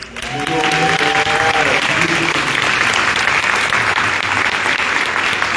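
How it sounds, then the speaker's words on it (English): An audience at a Jackson, Michigan mayoral debate claps for the panel, a full, sustained round of loud applause that begins under a brief stretch of speech and then continues alone. "We need to give a really big hand to this panel here tonight."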